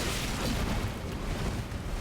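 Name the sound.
bomb explosion in the video game Elden Ring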